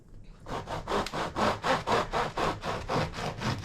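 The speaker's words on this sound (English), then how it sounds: "I'm just going to do a couple of slices." A knife saws through a cold loaf of lemonade bread baked in an air fryer, making a quick run of about a dozen rhythmic crusty rasping strokes, close and fairly loud, with no talking.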